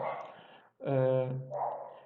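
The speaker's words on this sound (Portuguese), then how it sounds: "o cachorro aqui está atrapalhando um pouco" A dog barks nearby in two bursts, a sharp bark between them, loud and close, with no speech over it.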